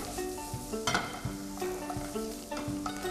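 Asparagus spears tossed into a hot pan, frying with a steady sizzle and faint stirring clinks, close and without talk.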